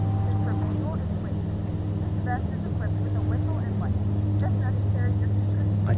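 A Dornier Do228 turboprop of Aurigny taxiing toward the runway at Alderney, its engines holding a steady, loud droning hum throughout while people talk over it.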